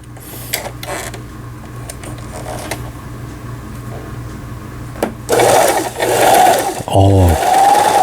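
An old sewing machine with a freshly adjusted hook and tension assembly runs in a steady low mechanical rhythm, followed by louder, faster whirring bursts near the end.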